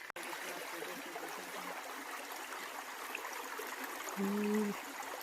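Steady rush of a river flowing through a forested gorge in Red River Gorge, a continuous soft wash of water with a brief low hum near the end.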